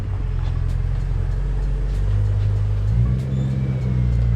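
A twin-turbo LS-swapped Mustang idles with a deep, steady exhaust rumble close by, the low drone swelling slightly near the end without any sharp revving.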